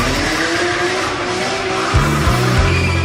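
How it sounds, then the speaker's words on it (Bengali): Motorbikes launching at the start of an informal race, engines loud and close with a steady roar, then sharp rising revs and overlapping acceleration swells in the final second. "বাইক রেস করে জিততে হইব পুরো খাড়া টান দিতে হইব"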